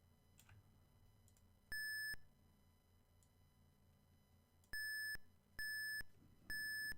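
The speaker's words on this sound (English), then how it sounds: "Some beeping noises" Electronic arcade beeps sound in sharp bursts: one early, then three more in quick succession near the end, over a quiet room hum.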